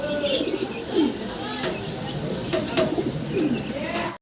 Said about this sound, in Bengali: দেখেন কালারের বোখারা কবুতর একদম সলিড কালার